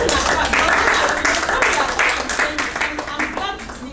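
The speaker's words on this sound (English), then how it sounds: "Clap for her. Clap for her." Audience clapping at a business opportunity expo, steady dense applause filling the room with voices and crowd noise mixed underneath throughout.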